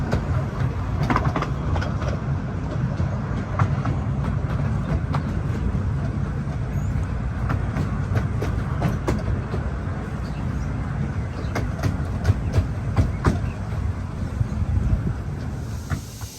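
A Romney, Hythe and Dymchurch Railway miniature train rolls along toward Hythe, a steady close rumble and hiss with faint rhythmic clicks of wheels on track throughout.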